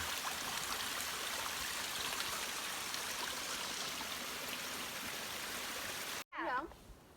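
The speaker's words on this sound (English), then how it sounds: "Nothing like fresh mountain water." A mountain stream on the Pacific Crest Trail rushes with a constant broad splashing flow up close, cut off abruptly near the end before a brief voice.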